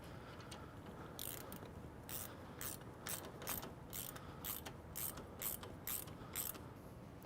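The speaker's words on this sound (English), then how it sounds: "To fasten the side bow to the number 3 bow, use a T30 Torx bit and one of these 2 shoulder screws." A ratcheting driver clicks in short bursts as a T30 Torx bit turns a shoulder screw into a Bestop Trektop Glide soft-top bow, the faint, close mechanical clicks repeating in an uneven rhythm with no talk.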